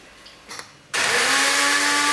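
A blender starts abruptly after a brief clatter and whirs loudly and steadily, close by, blending basil, garlic and olive oil into pistou.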